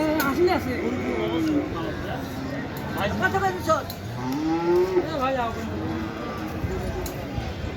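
Several cattle moo repeatedly amid a busy crowd at a cattle market, with people talking, bargaining and chattering around them throughout.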